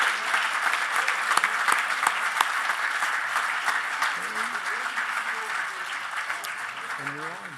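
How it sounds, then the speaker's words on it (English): An audience at an awards event honoring Jewish educators gives steady, moderately distant applause for honorees posing for a photo, with faint voices and a brief spoken phrase near the end. "let's have a nice round of applause for all of these important people"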